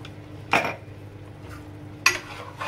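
A spoon working chana masala in a cooking pan gives two distinct metallic scrapes and clinks about one and a half seconds apart over a steady low kitchen hum.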